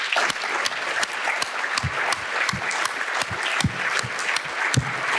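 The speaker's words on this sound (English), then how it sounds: "Let's give them another round of applause." An audience at a UW-Madison scholarship welcome event gives a round of applause, with individual claps standing out clearly against a continuous crowd patter that stays steady and fairly close throughout, with no talking.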